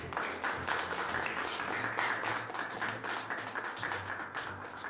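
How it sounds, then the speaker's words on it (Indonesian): Audience applause at a public honoring ceremony, a dense continuous patter of many hands clapping, steady and moderately loud throughout with no speech. "Tapi simpan tepuk tangan kalian untuk pahlawan kita."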